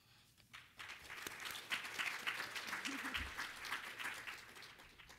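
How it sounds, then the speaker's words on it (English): Audience applauding at a ceramics-for-social-change event, a faint patter that swells after a second and holds steady, with a brief murmur under it. "Thanks for clapping."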